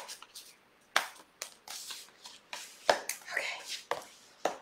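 A deck of tarot cards is shuffled by hand in close, crisp bursts, with several sharp riffles and slaps separated by short pauses.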